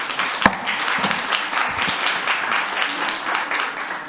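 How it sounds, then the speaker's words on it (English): Council meeting audience clapping in a dense, steady patter that fills the room for several seconds, with a sharp clap standing out near the start. "There will be no clapping."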